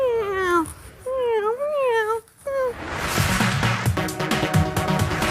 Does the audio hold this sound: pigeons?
no